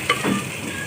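Tomatoes, a kilo of them, sizzle and cook down in masala in a covered pot for fish karahi, giving a brief close frying hiss with a soft stir near the start.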